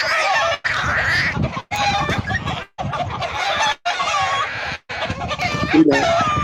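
A mother hen clucks loudly and repeatedly to defend her chicks, sharp agitated calls with brief pauses between bursts, close and prominent with some background noise.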